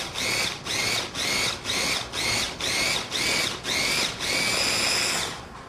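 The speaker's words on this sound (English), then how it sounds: "So you're just going to pulse your food processor until you get the consistency you want of the pepper jelly." A food processor pulses a roasted red pepper and sour apple jelly in about seven short, even motor bursts, then one longer run before cutting off. The whirring is close and loud, with no talking.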